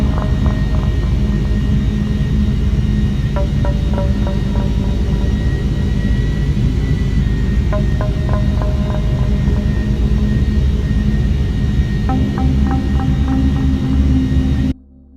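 Steady loud engine drone fills the cockpit of an airliner in flight on TAROM Flight 371, a continuous roar and hum with faint repeating electronic beeps layered over it.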